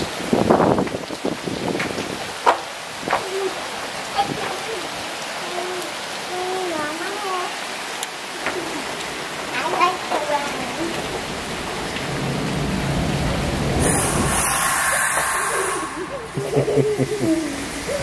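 Heavy rain pours steadily in gusting wind during a storm in Silivri, Turkey, a constant hiss with scattered gusts and rumbles, while a faint voice and other intermittent sounds come through underneath, ending in a louder broadband rush.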